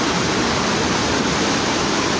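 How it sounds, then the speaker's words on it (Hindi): A swollen river in flood after days of heavy rain in the hills rushes past a collapsed stone embankment, a steady, loud, broadband roar of churning water with no let-up and no voices. "पानी देखिए कितने उफान पे हैं, लगातार बारिश हो रही है पहाड़ों में और पानी अपने पूरे उफान पे हैं"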